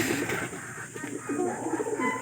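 Racing pigeons coo in low, throaty bursts over steady background noise, several soft rolling calls close by.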